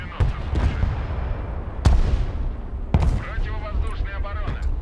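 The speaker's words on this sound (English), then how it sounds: "Big artillery coming down onto me." Artillery fire in the war video game Broken Arrow, several sharp booming impacts and rumbling blasts over a dense battle din, with a voice talking over it.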